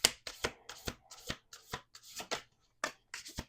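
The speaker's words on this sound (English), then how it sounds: "Let's do two more shuffles." Oracle cards are shuffled by hand in a close, crisp series of about a dozen riffling bursts with short pauses between them, and no talking.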